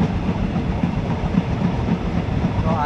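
A Thai ordinary passenger train, number 259, rolls along the rails out of Taling Chan junction toward Salaya. A steady loud rumble with soft rhythmic clatter fills the space, heard from inside the carriage.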